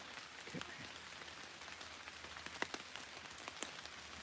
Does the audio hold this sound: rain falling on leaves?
yes